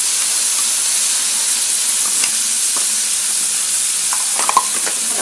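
Pumpkin stir-fries in a pan with a steady, loud sizzle and hiss, broken by occasional scraping stirs, close up with no voices.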